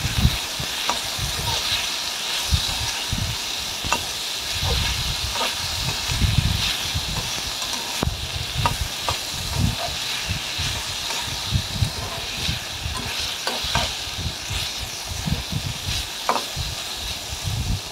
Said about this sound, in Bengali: দিয়ে আবারও ভালোভাবে নেড়ে চেড়ে দিতে হবে